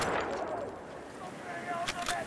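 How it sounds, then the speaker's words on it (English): Machine gun fire in a Battlefield V multiplayer battle rattles in short bursts under a wash of battle noise, with a couple of sharp cracks near the end. "Machine gun over there!"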